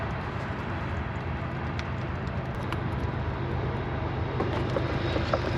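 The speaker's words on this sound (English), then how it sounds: "That noise, it's a big train coming by." A big freight train rolls along tracks about 100 feet from a snowy winter campsite, a steady, loud rumbling roar that holds without pause throughout.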